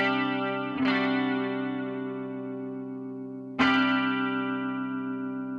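An electric guitar through a Marshall MG2FX amp with its phaser modulation effect, two chords struck about three seconds apart, each ringing long with a slow sweeping swirl, close and alone.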